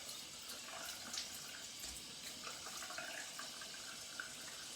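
Running tap water while rinsing after shaving with Williams mug soap, a soft steady hiss of flowing water with faint splashes, continuous and fairly quiet.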